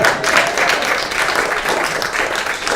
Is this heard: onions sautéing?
no